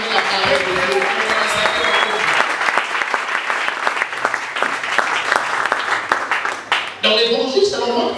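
A church congregation applauding the word of God during a French-language service, loud sustained clapping that fills the room, with a voice speaking over it and a brief dip before the applause swells again.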